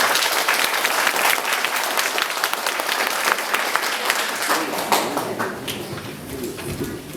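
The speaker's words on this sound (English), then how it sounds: "please give your big applause to the Premier of Western Australia" A dense, steady wave of audience applause for the Premier of Western Australia at a Vietnamese culture centre gathering, loud and close, sustained for several seconds and easing slightly toward the end.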